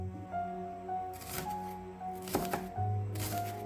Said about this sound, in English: Now chop a shallot and 1 red onion